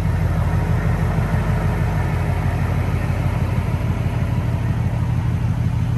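A lowered BMW X5 5.0 with its exhaust deleted idles close by, giving a steady, continuous low rumble with no pauses and no voices.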